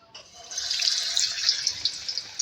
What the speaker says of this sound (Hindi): अब देखिए तेल है, ठीक है, इसमें हम डालेंगे कचौरी को